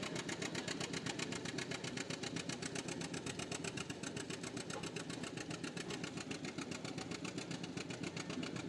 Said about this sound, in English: I do know it's a John Deere G, and this we've seen the B, we've seen the A, now we see the G